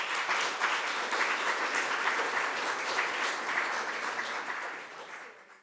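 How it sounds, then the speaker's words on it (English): Steady, dense applause from an audience at a community film screening and panel talk, sustained and fairly loud before fading out at the end. "let's just give it another round of applause"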